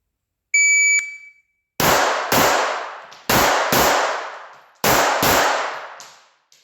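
Six sharp pistol shots from a Glock 42 and a Ruger LCP, fired in quick pairs with short pauses between, loud and close, each with a brief ringing decay; a faint electronic beep sounds just before.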